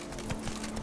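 Hooves of Roach, a horse in The Witcher 3 game, thud in a quick clip-clop rhythm at moderate distance, fairly quiet against a soft background hum.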